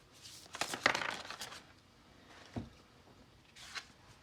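Stiff, large tarot cards are shuffled with a quick flurry of riffling and sliding, then a soft tap and another short shuffle, quiet and close.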